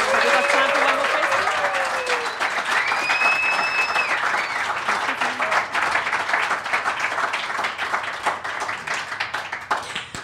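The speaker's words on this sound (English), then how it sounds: "I'm sure there's a space for a round of applause from the audience" A studio audience on a radio show applauds warmly, a thick, continuous patter of many hands that fades slightly toward the end, with a voice briefly audible over it.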